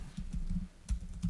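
Keys clack on a computer keyboard in a quick, uneven run of soft taps, close and fairly quiet, with no talk.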